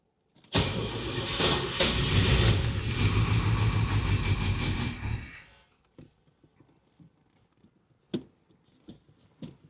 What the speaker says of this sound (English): I just pressed the clutch in really hard, and it's trying to start now.